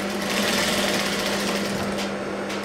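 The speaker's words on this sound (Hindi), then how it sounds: "कोने में सिलाई" A sewing machine stitches the corner of a blouse, giving a steady, close, continuous mechanical whir with an even buzzing drone throughout and no talking.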